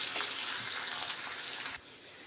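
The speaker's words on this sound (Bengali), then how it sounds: "তো এটাকে একদম কড়া করে লাল লাল করে ভেজে তারপর আমি তুলব।" Onions deep-frying in hot oil for birista make a close, steady bubbling sizzle that thins out at the end.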